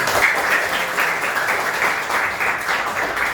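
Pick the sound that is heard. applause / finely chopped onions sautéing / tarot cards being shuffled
applause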